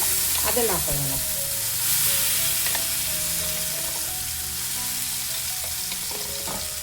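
Mustard seeds and cumin crackle in hot oil, with a dense sizzle and a cluster of sharp pops early on that ease into a softer, steady frying hiss.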